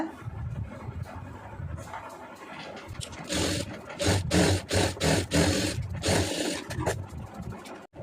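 A sewing machine runs a small stitch around a lined cross-cut blouse, rapid mechanical chattering in short bursts that grows louder and more rhythmic in the second half, close by.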